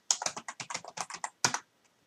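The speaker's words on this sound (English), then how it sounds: "We're also going to come up here and we're going to type in" Rapid typing on a computer keyboard while entering a router configuration command, a close burst of about a dozen crisp keystrokes in uneven rhythm, then a short pause and a final few taps.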